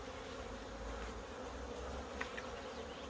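Honey bees buzzing around an open hive brood chamber, a soft continuous drone of many insects heard close but quietly, with no talking.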